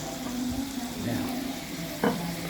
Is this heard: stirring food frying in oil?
yes